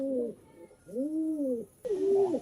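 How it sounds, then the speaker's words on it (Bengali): Pigeons coo in three rounded, throaty phrases, close by and clear, with short pauses between calls. "এইখানে আমি আপনাদেরকে আবার দেখাচ্ছি দুটো পায়রা"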